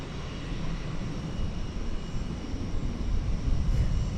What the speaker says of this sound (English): There goes American Flight 633, an Airbus A321neo.